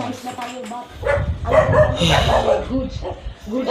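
A dog barks and yips several times at close range, mixed with ongoing talk and background noise.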